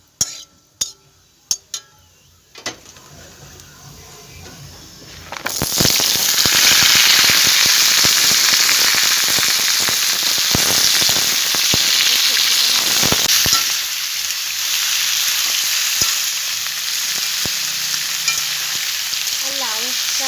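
Cumin seeds hit hot oil for a gourd curry, and after a few sharp taps a loud, steady sizzle and crackle takes over and runs on close to the pan, easing slightly near the end.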